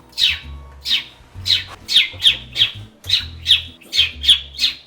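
A bird squawks repeatedly, loud harsh calls about twice a second over a low background hum, with the close, boxed-in sound of a room.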